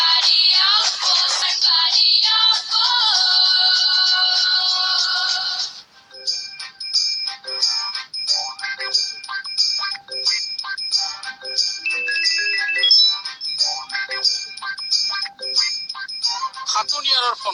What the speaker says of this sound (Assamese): খাটনিয়াৰৰ ফোন নুশুনে।